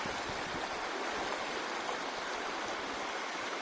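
Steel River water flowing over a rocky stretch, a soft steady broadband rush of moving current, faint and continuous with no other sounds.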